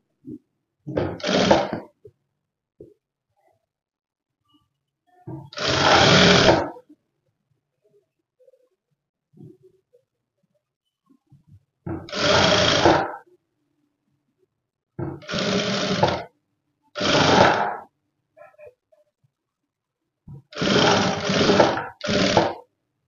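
Sewing machine stitching fabric for butta-hand puff sleeves, running in six separate bursts of a few seconds each with short quiet gaps between them, close and fairly loud with no talk.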